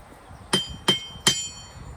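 Three evenly spaced ringing blows of a hand hammer striking metal in a blacksmith forge, close and crisp over a low shop hum, with no talking.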